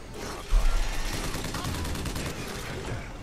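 Rapid gunfire in Bioshock Infinite, a dense continuous barrage of shots with a sharp burst near the start, loud and sustained throughout.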